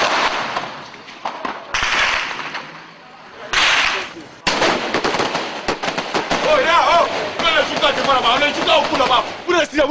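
Gunfire erupts in a chaotic armed confrontation, with sharp single shots and rapid bursts cracking at varying distances amid shouting and agitated voices.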